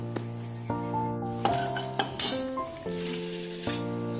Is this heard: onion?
yes